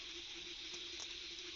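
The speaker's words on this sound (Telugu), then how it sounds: "పడతానే ఉంది ఇంకా వర్షము" Steady rain falls outside a village house, a continuous even hiss of water with no pauses or other sounds.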